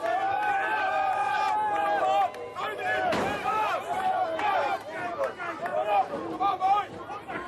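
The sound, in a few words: crowd shouting support at a strongman competition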